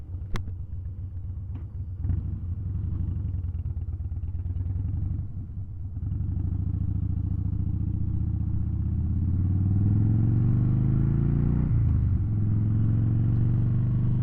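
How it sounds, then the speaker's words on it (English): A Harley-Davidson Rocker C motorcycle with a 96 cubic inch V-twin engine runs steadily up close, a deep continuous rumble that swells as the revs climb in the second half, dips briefly, then settles back into a loud, throaty drone. "it's a 96 cubic inch motor and it sounds good"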